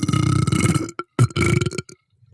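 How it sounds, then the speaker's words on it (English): A loud, drawn-out burp from a man close by, followed after a short gap by a second, shorter belch trailing off into quiet. "He burped in our face"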